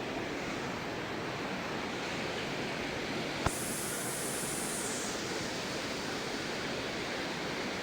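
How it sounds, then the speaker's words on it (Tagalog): Strong current of rushing flood water, a steady broad roar of churning water filling the whole span, loud and constant with a single sharp click midway, no talk. "Lakas ng agos."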